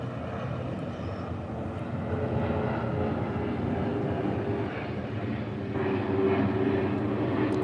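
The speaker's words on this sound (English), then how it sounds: "Sorry, there's an airplane." An airplane passes overhead with a steady, broad engine drone that lasts throughout and swells slightly toward the end, with no talking.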